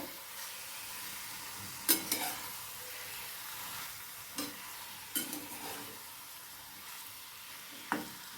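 Chicken cooking in a kadai, a steady close sizzle broken by four distinct scraping clatters as a spatula stirs the pieces, roughly every two to three seconds.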